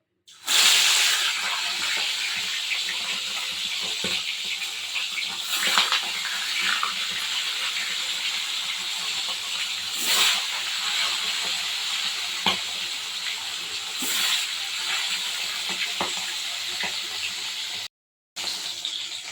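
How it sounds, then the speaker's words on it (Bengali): Fish frying in hot oil in a home kitchen, a loud, continuous crackling sizzle that holds steady, with brief bursts of spattering, stirring and a short break near the end. "যে মাছ ভাজার জন্য তেল বসিয়েছি, তেলও গরম হয়ে গেছে। এবার মাছগুলো দিয়ে দেবো।"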